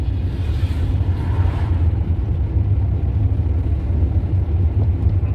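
Car engine pulling in fourth gear during a driving lesson, a loud steady low rumble from inside the cabin with rising drive, no talk.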